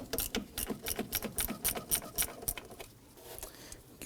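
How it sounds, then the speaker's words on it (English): A socket and ratchet loosen a 10mm bolt on a 2003-2014 Volvo XC90, giving quiet, quick ratcheting clicks in short rhythmic bursts that fade near the end. "Go ahead and use that socket and ratchet to loosen."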